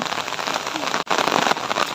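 Steady rain falls with a dense, hissing patter over the whole two seconds, broken by one sharp dropout near the middle; a voice can be heard faintly underneath.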